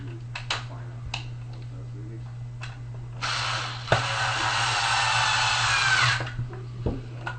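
A power screwdriver drives board screws into an XSV Vlocity paintball loader during a clock spring replacement, whirring steadily for about three seconds, with scattered handling clicks before and after over a constant low electrical hum.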